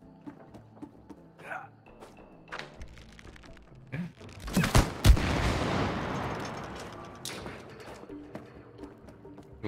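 Gunfire in the co-op video game It Takes Two: scattered small shots early on, then a loud dense burst of shooting around the middle that trails off into quieter game noise.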